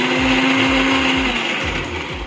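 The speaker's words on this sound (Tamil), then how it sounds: "ஆற விட்டு இதை ஒரு மிக்சியில் போட்டு நல்லா ஒரு ஃபைன் பேஸ்ட்டாக அரைச்சிக்குங்க." A kitchen mixer grinder whirs loudly and steadily, grinding cooled, sautéed onion into a fine paste for country chicken curry, its motor drone continuous with a slight rhythmic churn and a dip in pitch near the end.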